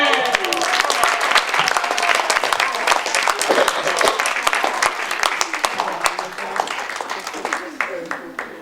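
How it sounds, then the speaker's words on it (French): At an improv theatre show, an audience bursts into dense, lively applause with sharp individual claps standing out; it fades somewhat toward the end, and voices can be heard through it. "On applaudit, oui!"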